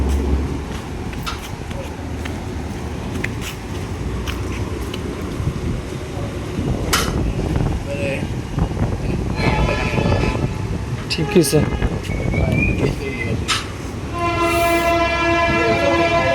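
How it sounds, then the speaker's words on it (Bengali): A train passes near a river bridge with a loud rumbling, rattling rush that builds and then sounds its horn in a sustained blast near the end. A few words are spoken over it. "এখন ট্রেন আছে"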